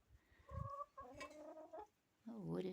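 Chickens kept in a backyard plot pecking for grain, giving short close clucks and drawn-out calls in an irregular run, with faint talk underneath.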